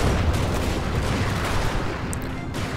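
Dense, continuous battlefield gunfire from the Medieval 2 Steam and Steel mod, a steady crackling fusillade with low rumbling booms layered underneath, loud and unbroken throughout.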